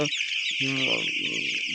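Chickens on a poultry farm cluck in short, overlapping bursts close by, a busy flock chattering continuously over a constant background hum.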